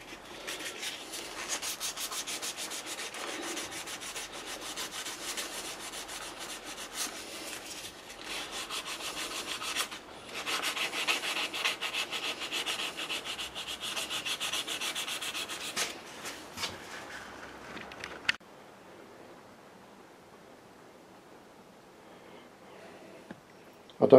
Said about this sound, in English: It's actually paint, so we'll have to sand it off.